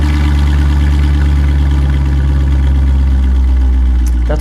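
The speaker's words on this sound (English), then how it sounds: "Here's the new exhaust, cold start." A C5 Corvette fitted with a new cat-back exhaust rumbles at a cold-start idle, loud, deep and throbbing with a steady rhythmic burble, recorded close with nothing else heard.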